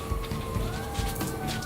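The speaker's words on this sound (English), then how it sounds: "And sirens." Sirens pass outside, a faint rising and falling wail drawn across a steady indoor background with no talking.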